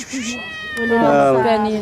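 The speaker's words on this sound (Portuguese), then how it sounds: "encontramos o gato da sogra" A hungry stray cat at the site of Capernaum in the Holy Land meows repeatedly, a near, insistent two-part cry, while people talk around it.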